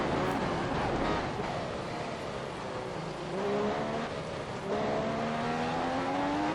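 Loud, continuous engine roar of a race car at full speed in eighth gear in a racing game, with the pitch climbing and shifting through the lap, close and unbroken.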